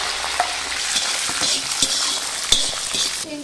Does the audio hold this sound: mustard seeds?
yes